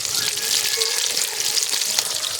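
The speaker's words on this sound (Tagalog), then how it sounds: "habang nagbo-voice record ako guys, ay nagpiprito ako ng isda" Fish frying in a pan on an island, a steady close crackling sizzle that stays loud and even throughout with no voices.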